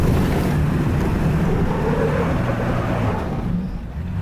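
An off-road vehicle in two-wheel drive is pushed hard through rough terrain, giving a loud, continuous rumble of engine, tires and wind that eases slightly at the end.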